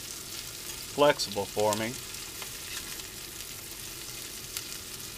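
Onions and jalapeños frying in olive oil on an RV stove, a soft steady sizzle running throughout, with a brief spoken phrase near the start.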